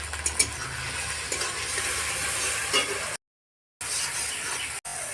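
Chopped tomato fries in a pan with onion and chillies, giving a steady close sizzle with stirring scrapes, cut by a short silent gap before the frying resumes.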